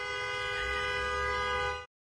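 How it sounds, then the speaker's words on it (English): A car horn honks in one long steady blast as a driver chases a fleeing woman on the road, loud and continuous before cutting off abruptly. "And he's honking at her."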